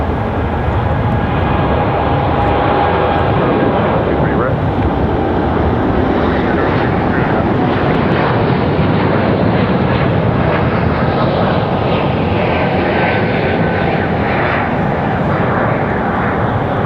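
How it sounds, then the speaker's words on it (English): An Air France Boeing 787 Dreamliner jet departs from Raleigh-Durham airport, its engines a loud, steady broadband roar that holds strong throughout with a faint tonal whine riding on top. "Quite exceptional shot of that Air France Dreamliner"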